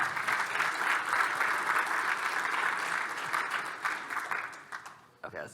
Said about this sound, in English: can we please give a big round of applause for my wife, Mary?